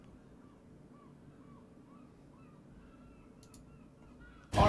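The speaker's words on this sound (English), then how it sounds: "The birds are doing the calling now" Crows cawing in the distance, a series of faint hoarse calls repeating over a low, steady background murmur, ending with a sudden loud burst of noise.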